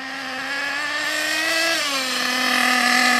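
An Ansmann Virus 2.0 BigBlock nitro RC car engine idles at quarter throttle after run-in, a steady high-pitched buzzing whine that rises briefly then settles, close and loud with no talking.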